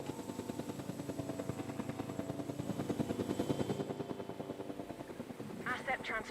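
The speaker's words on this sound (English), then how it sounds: "The helicopter sound does actually speed depending on game speed." Helicopter in the Jurassic World Evolution 2 video game: a steady pulsing rotor drone that fills most of the clip at moderate level, fading near the end as a voice speaks over it.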